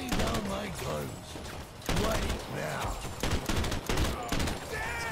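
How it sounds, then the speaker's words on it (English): Dense gunfire rattles in a rooftop shootout in the video game Crime Boss: Rockay City, with continuous loud bursts and voices speaking over the shots. "We are currently stuck on top of a roof in a massive shootout"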